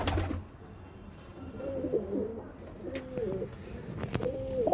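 Several soft, rolling coos from Lombardy pigeons in a loft, spaced a second or so apart after a brief quiet opening, heard close over a low background hum.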